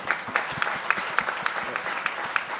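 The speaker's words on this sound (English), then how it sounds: "I think that calls for a round of applause." Audience applause breaks out at a business summit panel session, a dense spread of claps with small regular peaks, steady and moderately loud throughout.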